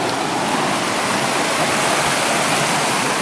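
A stream swollen by heavy rain on the Appalachian Trail: a steady, full rush of flowing water, close and loud, with no break.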